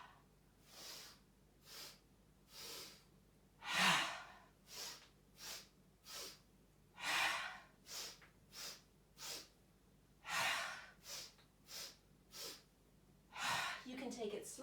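Forceful breaths pushed out through the mouth during a flowing yoga sequence, a long run of regular whooshing exhales, close and fairly loud, repeating roughly every second with a few stronger bursts.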